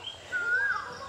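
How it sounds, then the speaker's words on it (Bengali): One rising, drawn-out whistled note of an Asian koel calling from the trees around a village home in Narsingdi, heard moderately clearly over quiet outdoor ambience. "আবারও কোকিল ডাকতেছে"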